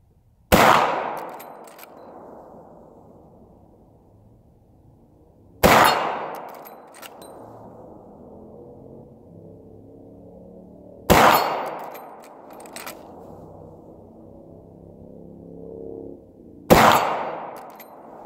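Marlin rifle shots, four loud sharp reports spaced roughly five seconds apart, each followed by a long fading echo outdoors.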